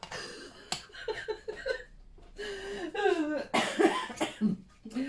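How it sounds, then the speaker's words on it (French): Several bursts of coughing mixed with chuckles and a few spoken sounds, close and fairly loud, in irregular clusters. "Et ça me fait tousser du coup."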